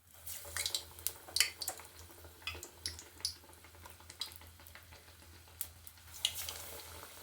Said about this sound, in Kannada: ಇವಾಗ ಎಣ್ಣೆ ಕಾದಿದೆ. ಒಂದೊಂದೇ ಬಜ್ಜಿನ ಬಿಡೋಣ.